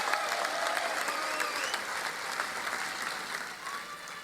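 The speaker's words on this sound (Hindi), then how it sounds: "एक बार ताली बजाकर इनका स्वागत" An audience at a political rally in Maharashtra claps steadily to welcome politicians, a dense sustained applause from a large crowd that holds even throughout.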